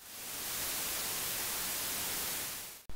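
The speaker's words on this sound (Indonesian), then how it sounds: "Tapi video kali ini khusus membahas tentang white noise." Steady, loud broadband white noise hiss holding evenly for nearly three seconds before cutting off abruptly at the end.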